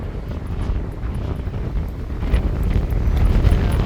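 Strong wind buffeting the microphone, a loud low roar that builds and gusts, growing heavier toward the end.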